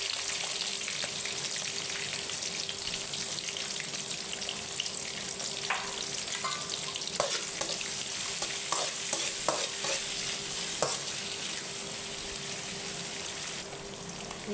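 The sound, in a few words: chopped small onions frying and being stirred in pan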